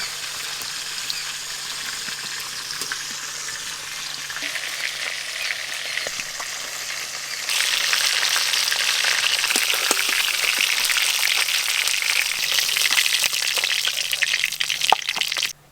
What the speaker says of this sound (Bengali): সব মাছ তো খুব ভালো করে ভাজা হয়ে গেছে।